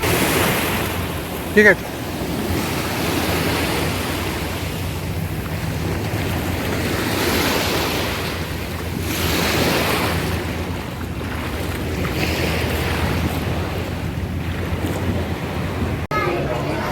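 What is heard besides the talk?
boat travelling on the sea from Monkey Island to Phi Phi Island, waves and wind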